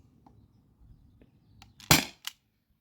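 A modified T4E HDP50 CO2 pistol fires nylon balls while running low on gas: faint ticks, then one loud sharp pop near the end followed by a shorter second crack, with otherwise quiet surroundings.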